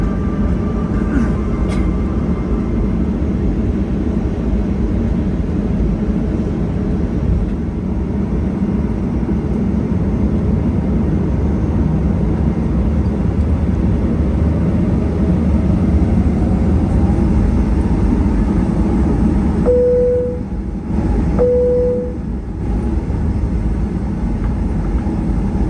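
Steady low cabin rumble inside a JAL Boeing 737-800 waiting before takeoff from Narita, a continuous engine and air-system drone with a faint chime partway through and no talk.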